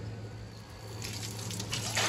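Tap water runs into a canning pot being filled for a water bath with jars inside, a close steady stream that grows louder and brighter as it rises, with no speech.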